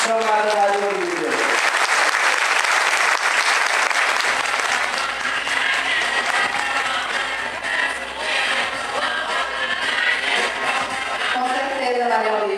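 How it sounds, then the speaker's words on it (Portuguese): Warm, sustained audience applause at a Portuguese-language tribute ceremony honouring a teacher, dense hand clapping filling the room from start to finish, with a speaker's voice briefly audible at the opening and close. "eu quero e peço a todos vocês uma salva de palmas bem calorosa"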